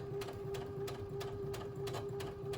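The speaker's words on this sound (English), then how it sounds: "You're going to continue sewing, so that would close up that seam." A sewing machine runs steadily while stitching a curved seam on a children's cloth face mask, giving a continuous hum with regular ticking stitch pulses at close range.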